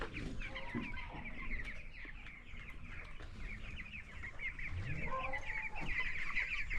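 Nineteen-day-old chicks in a poultry farm shed cluck and peep in a soft, continuous chorus, fairly quiet and close.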